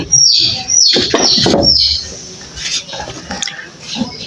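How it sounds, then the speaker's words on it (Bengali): Pigeons in a loft, a burst of sharp chirps and flutters up close, then quieter scattered rustling and faint calls. "দেখি কয়টা কবুতর।"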